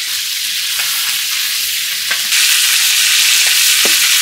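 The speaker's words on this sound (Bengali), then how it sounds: "মাংসটা ভালোভাবে তেল ভাজিয়ে নিতে হবে" Chicken pieces fry in hot oil at home, a loud, steady hissing sizzle close up, broken by a few soft clicks of stirring and swelling slightly louder partway through.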